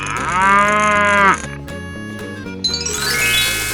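A cow gives one long, loud moo in a 3D animal slide video game, then gives way to a twinkling chime and cheerful background music.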